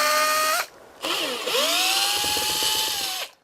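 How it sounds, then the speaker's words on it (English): A power drill backs screws out of the corner molding on an RV, its motor whining in two loud bursts split by a short pause, the second run longer with a steady rising pitch. "Remove all the screws"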